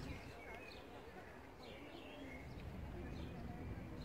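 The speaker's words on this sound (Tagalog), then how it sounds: "Sa ilalim ng roses ay puno ng kalapate." Pigeons cooing under rose bushes in the Museum Quarter in Vienna, soft low coos and a few faint chirps heard over steady outdoor background noise, with people talking nearby.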